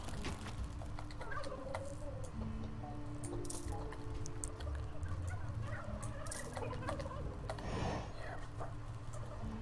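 Turkeys gobbling repeatedly in the dark fantasy strategy game Dungeons 3, several birds calling over a steady low game ambience with scattered clucks and squishy effects throughout.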